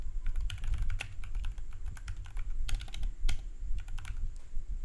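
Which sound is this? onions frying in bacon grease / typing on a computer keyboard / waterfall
typing on a computer keyboard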